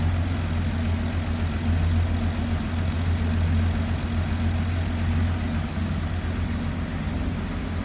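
A 1937 Packard Six touring sedan, a pre-war five-passenger car, idles close by with a steady, low, even engine rumble that holds throughout, with no talking.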